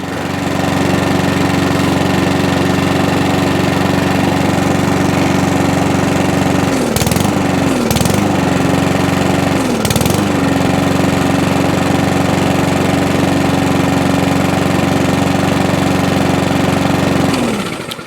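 Mountfield HP45 push lawn mower engine running, a loud steady droning putter with a few brief dips around the middle before it fades at the end, alone without talk.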